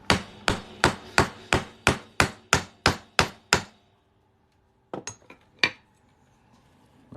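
A hammer strikes a silver coin on metal while making a coin ring, in a steady run of about a dozen sharp, ringing blows, then a pause and a few more scattered hits, close and loud.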